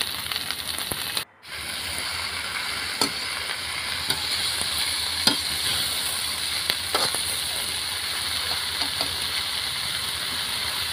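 Chopped vegetables frying in a pan and being stirred, a continuous close sizzle broken by a brief drop near the start, with periodic spoon scrapes and clicks, no speech.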